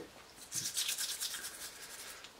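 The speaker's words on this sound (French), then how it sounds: "mes roulements sont dans l'essence avec une petite brosse à dents" A small toothbrush scrubs Peugeot 103 crankshaft bearings soaked in petrol, giving a soft, close bristly swishing in quick repeated strokes for about two seconds, with no talking.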